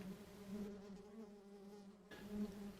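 Honeybees buzz over a hive frame of capped brood, a faint, steady close-up drone with a few brief swells as individual bees pass near.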